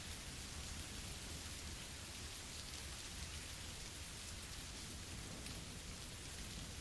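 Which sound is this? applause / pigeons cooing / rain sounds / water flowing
rain sounds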